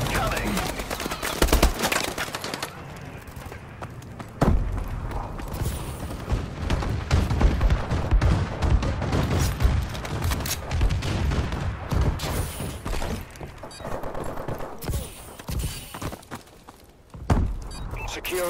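In a video game, an enemy bombing run sets off repeated explosions mixed with dense gunfire and footsteps, with loud blasts recurring throughout.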